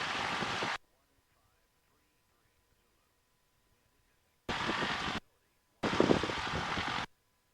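Small training airplane taxiing at Chatham, Cape Cod, heard in three loud bursts of broadband engine and propeller roar separated by long near-silent gaps, as if through an intercom that keys on and off.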